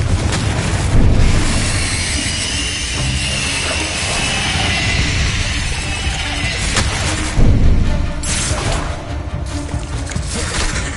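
Confringo spell explosions in the Hogwarts Legacy video game, a loud booming blast followed by rumbling debris, then a second heavy boom near the end, with no talking.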